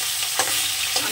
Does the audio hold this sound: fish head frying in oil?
yes